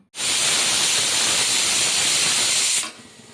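A pressure cooker cooking mutton curry on a stove whistles, releasing a loud, steady hiss of steam that holds for nearly three seconds before cutting off abruptly.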